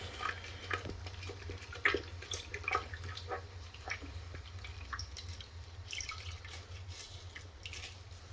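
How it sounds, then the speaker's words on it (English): Water splashes and drips while a neglected toilet bowl is rinsed after an acidic cleaner, with faint irregular trickles and splashes over a low steady hum, quiet and without talk. "Alright, let's rinse it off."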